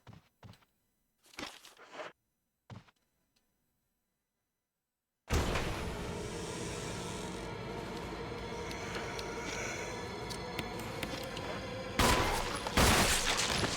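Gunfire in Resident Evil REmake HD: a few sharp isolated shots and thuds in near silence, then a sustained loud burst of noisy firing and echoing clatter that swells again near the end.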